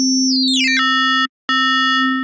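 FM synthesis tone with the modulator pitched higher than the carrier: a bright, metallic sustained electronic note whose overtones sweep downward and settle, cut off briefly by a short silence before the same bright tone resumes.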